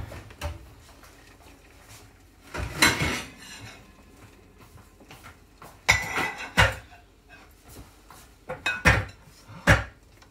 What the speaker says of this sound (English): So I'm just going to get the plates out of the oven.